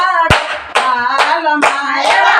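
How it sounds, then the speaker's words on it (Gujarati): Rhythmic hand clapping keeps time in a Maha Shivratri Shiva devotional kirtan, four sharp claps spaced evenly and close, each ringing under sustained harmonium-like tones and singing. "તાળી પાડો તાલમાં"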